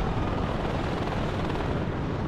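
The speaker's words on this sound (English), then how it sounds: "But I can bring up a helicopter now." A helicopter in the Warno video game gives a steady, dense rotor and engine roar, loud and continuous throughout with no talk over it.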